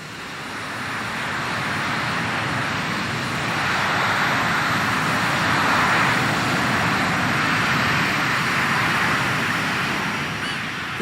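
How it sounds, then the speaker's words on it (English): An F-35 fighter jet's engine and lift fan running up to full power during a post-incident check, a steady, loud broadband roar that swells slightly midway and holds for the whole stretch with no talk. "run the engine and the lift fan up to full power to make sure there's no damage."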